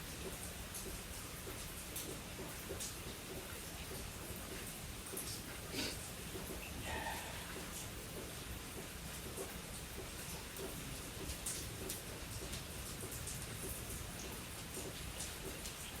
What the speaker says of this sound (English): Because it's raining and peaceful.